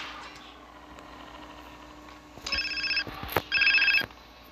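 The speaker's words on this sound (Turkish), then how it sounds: "Telefon çalıyor ya." A telephone rings in a video game, giving two loud electronic trill bursts over a low idling car engine hum.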